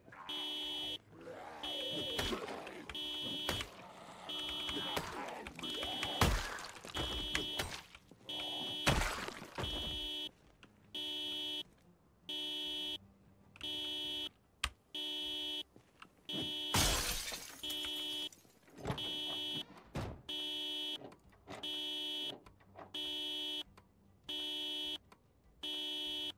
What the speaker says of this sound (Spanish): ¿Cómo apago la alarma?